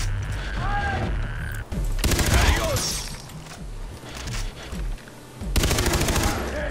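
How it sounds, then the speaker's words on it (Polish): Rapid gunfire from the shooter game Far Cry 3, with bursts of automatic shots and loud blasts filling the clip under game noise and a brief voice. "On mi strzelił w łeb."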